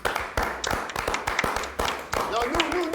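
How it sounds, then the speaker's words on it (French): A small group claps in scattered, uneven bursts while people talk over the sharp slaps. "Donc on les applaudit."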